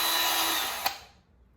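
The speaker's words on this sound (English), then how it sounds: "So just drill through the back of them" Power drill running briefly then spinning down with a sharp click, drilling out hood retainers on a 2024 Mustang GT during a hood install, close and loud, no talking.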